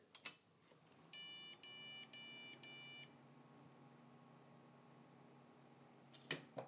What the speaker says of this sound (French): on a la carte mère qui s'est mise à biper